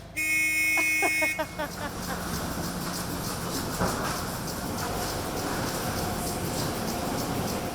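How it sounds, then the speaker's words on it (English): A loud, sustained horn honk opens the recording, then gives way to a steady rumbling, clattering roar that carries on to the end. "Gary greeted me first of all with the horn honk"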